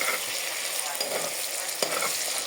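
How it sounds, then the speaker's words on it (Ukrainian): Steady, dense sizzling of onions frying in hot lard, a continuous crackling hiss with occasional stirring clicks, close and fairly loud. "Смажимо цибульку до золотавого кольору."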